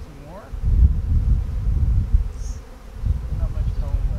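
Honeybees from a hive being moved out of a chewed wood hole drone in a thick, steady buzz close up, rising and falling, with faint voices in the background.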